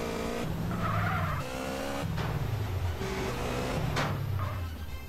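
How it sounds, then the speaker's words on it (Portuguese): A motorcycle in GTA San Andreas skidding with repeated tire squeals over a revving engine, several sharp screeching passes in quick succession, loud and close. "Vou guardar a nossa moto ali na garagem."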